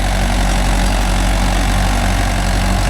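A Mahindra 415 DI tractor engine idles steadily on farmland, a loud, continuous low diesel rumble with no break or change in pace.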